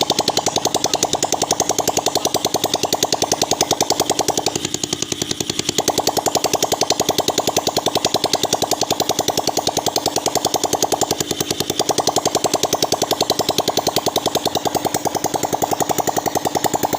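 A Honda XR200 motorcycle engine, freshly fitted with a new starter relay, runs close by with a rapid, steady mechanical clatter and a metallic ringing tone that stays constant throughout, with no talk.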